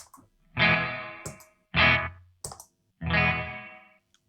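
Three separate electric guitar phrases through an EarthQuaker Devices Zoar distortion pedal, each a loud, buzzy, saturated burst with a short reverb tail, separated by brief silences and string noises.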